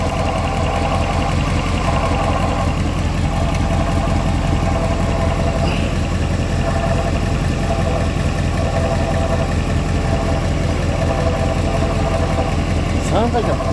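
An engine idles steadily up close with a continuous mechanical drone and a faint rhythmic ticking that could come from a pulley or a breaking-in chain guide, unbroken throughout.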